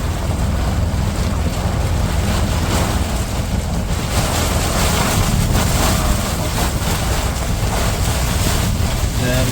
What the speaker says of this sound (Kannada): ಗಾಳಿ ಮಳೆ ನೋಡಿ ಹೆಂಗಿದೆ ಗಾಳಿ